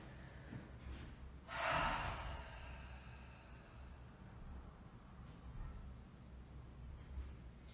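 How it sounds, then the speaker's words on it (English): A single breathy open-mouth exhale during a gentle chair yoga neck and shoulder stretch, soft and close, fading into quiet room tone. "Take a few open mouth exhales."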